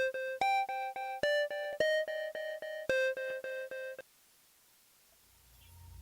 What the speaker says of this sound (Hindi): मनाल, फोन उठाओ, देखो किसका है।